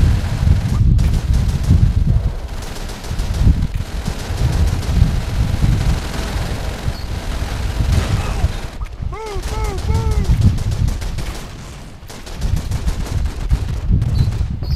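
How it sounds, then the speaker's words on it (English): Gunfire in the Call of Duty 3 war game, heavy bursts of machine-gun and rifle fire rattling loud and close, with brief pauses and wind noise, mixed with short whistling tones. "People need to chill out with the firing and let me kill them."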